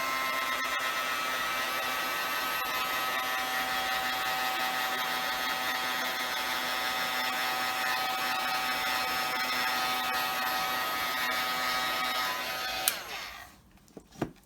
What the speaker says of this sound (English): So I'm going to go ahead and use my heat gun